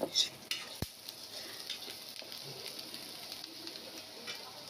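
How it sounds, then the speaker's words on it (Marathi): Onions frying toward golden brown for egg biryani, a soft steady sizzle with a sharp utensil clink near the start and faint stirring sounds, quiet and close. "आणि कांदा आपल्याला गोल्डन ब्राऊन कलर होईपर्यंत आपल्याला भाजून घ्यायचा आहे।"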